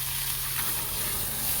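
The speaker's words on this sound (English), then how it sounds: "Little flambe action." A flambé flares in a large frying pan on a portable camp cooking setup, giving a steady, loud hissing sizzle that holds without a break.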